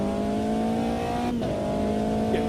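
A race car in a sim racing game holds a steady, loud engine drone throughout, with a brief gear-change dip midway and faint tyre noise underneath.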